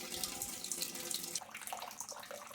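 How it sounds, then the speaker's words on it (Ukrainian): Water drained out of a pressure-canning autoclave used for home-canned pork stew: a continuous close pouring and splashing stream that thins slightly and turns more gurgly toward the end. "Розвернула автоклав, відкрила і зливаю водичку."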